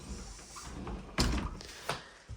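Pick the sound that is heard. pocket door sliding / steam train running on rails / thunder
pocket door sliding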